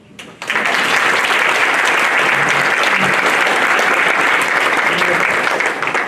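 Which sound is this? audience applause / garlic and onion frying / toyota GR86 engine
audience applause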